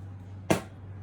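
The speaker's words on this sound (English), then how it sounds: "I'm going to spray the last one." Hairspray hisses onto styled hair in a single short burst from an aerosol can, close and crisp against a quiet background hum.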